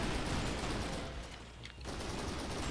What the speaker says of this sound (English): Somebody shooting at me from off screen.